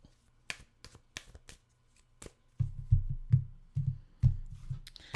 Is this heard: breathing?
no